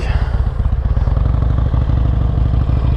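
Harley Davidson XL883L Superlow motorcycle engine rumbles at low speed, held at the clutch friction point, with a close, steady lumpy pulse and clattering mechanical noise.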